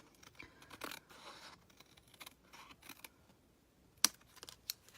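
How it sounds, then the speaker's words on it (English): Scissors snip through a layer of vanilla card stock during Stampin' Up! cardmaking, a few faint close cuts and rustles with a sharper snip near the end, alone without talk. "I'm going to snip this off."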